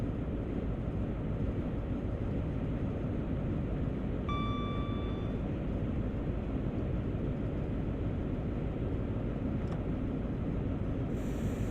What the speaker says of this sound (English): I'm just going to allow the train to coast along here for a moment